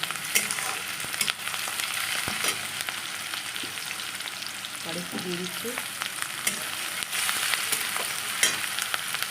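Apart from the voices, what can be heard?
onion frying in hot oil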